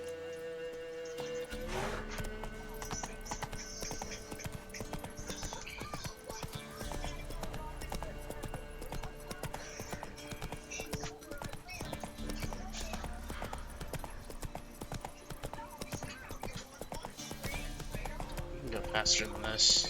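Roach, the horse in The Witcher 3: Wild Hunt, gallops in a steady rhythmic clip-clop of hooves over game music, with a player talking over it.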